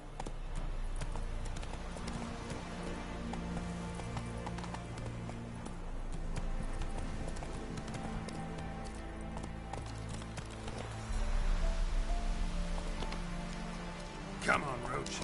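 Roach the horse galloping in The Witcher 3, a rhythmic clip-clop of hooves under rain-like patter and game music, with a voice speaking over it.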